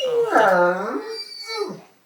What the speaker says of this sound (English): That was a yawn and a half.